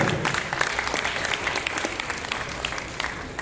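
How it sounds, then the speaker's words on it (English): An audience applauding at the grand launch of a cinema in a Miri shopping mall, a dense, lively burst of clapping that stays steady and close for several seconds. "A round of applause, ladies and gentlemen."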